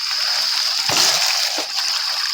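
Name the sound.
stronger water flow after rain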